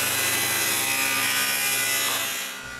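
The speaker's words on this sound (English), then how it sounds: "I want a wide but thin piece of wood for the back of the stamp, so I cut a thinner piece with the table saw." Table saw ripping a thin, wide board for a wooden stamp back, a steady dense whir of blade through wood held loud and close for nearly three seconds before easing off at the end.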